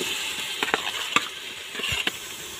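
Tomatoes sautéing with onions and green chilies in a pan during outdoor hillside cooking, a soft steady sizzle broken by a few sharp stirring scrapes and clinks.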